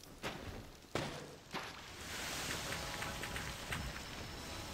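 Steady rainfall in a forest area of the video game Sky: Children of the Light, a continuous hiss with a few sharp thumps early on, moderately quiet and without voices.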